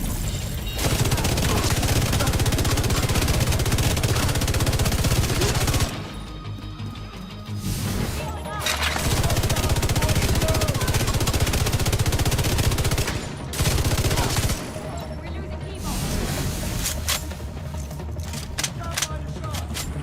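An exotic LMG in a shooter video game fires in long, rapid bursts, loud and dense, with two short pauses between sustained volleys.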